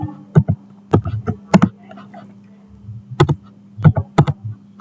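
Keys on a computer keyboard clack in short bursts of typing as a terminal command is entered, close and crisp, with brief pauses between clusters of keystrokes.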